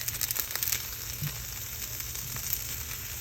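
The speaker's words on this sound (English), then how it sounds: "Flip the pork over and continue cooking for 3 more minutes." Pork frying in a pan, a steady close-up sizzle with crackling pops and a few soft stirring clicks, no voices.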